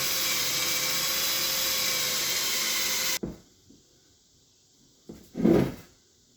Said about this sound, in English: I'm going to drill this hole, get it ready to tap, and then we'll drill the hole in the plate out to a 1/4 inch